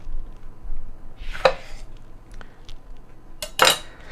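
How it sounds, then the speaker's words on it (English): A kitchen knife slices through two lemons on a cutting board, giving two separate crisp cutting strokes about two seconds apart, each a short clicky knock against the board. Close, moderately loud, no talking. "we're going to juice these 2 lemons, slice them in half here"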